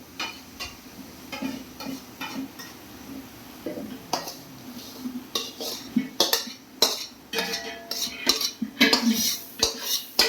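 Upma being stirred in a metal pan, with irregular scraping and clanking of a spoon against the pan, quick clattering strokes growing busier toward the end, close up over a faint background hiss.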